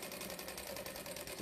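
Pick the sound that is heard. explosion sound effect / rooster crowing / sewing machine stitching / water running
sewing machine stitching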